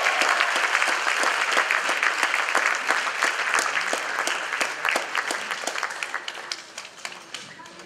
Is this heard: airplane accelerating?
no